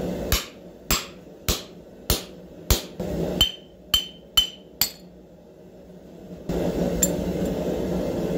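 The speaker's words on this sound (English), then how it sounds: "now you can drift this because you want to put a rivet through for your tongs" A hammer drives a drift through hot 5160 coil-spring steel to make a rivet hole for tongs. About ten sharp, ringing blows land close and evenly spaced, then stop, followed by a pause and a low background hum with one faint clink.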